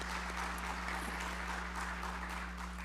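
A conference audience at a GRC Summit in Baltimore applauds for the C6, a steady, dense wash of many hands clapping at moderate distance, continuous throughout over a low hum.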